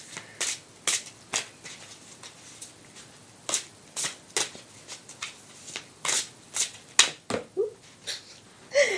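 Tarot and oracle cards are shuffled by hand in quick, crisp riffling bursts, repeated close-up in a steady irregular rhythm, with no talking.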